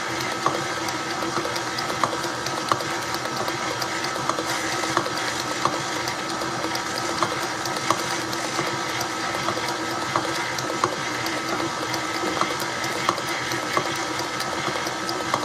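A mixer runs steadily while it blends cheesecake ingredients, a continuous close whirring hum with faint regular ticks and no voices.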